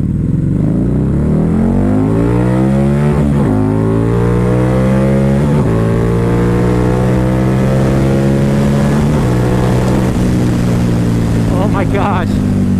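A 2011 Harley-Davidson V-Rod motorcycle accelerates hard from a roll toward 60 mph, its loud engine rising in pitch through several gear shifts, with a rider's voice audible over it.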